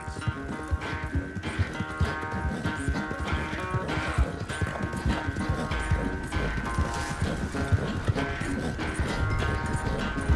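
Rhythmic horse hooves clip-clop continuously through a busy Western video game scene in Red Dead Redemption 2, steady and fairly close, layered with background music and other game sounds.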